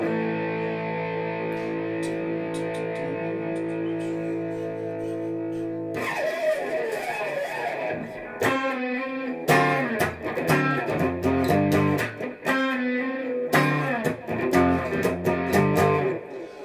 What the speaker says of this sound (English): he does this quick little octave lick.